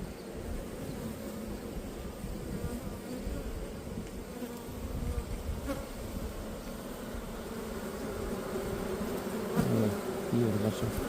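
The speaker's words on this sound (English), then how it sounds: "There are so many bees now." Dense, steady buzzing of many honey bees at a backyard hive, a close continuous drone with individual bees swelling louder as they pass near, no voices.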